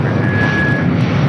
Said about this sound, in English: Also have that Delta 757 heading to Reagan National taking off.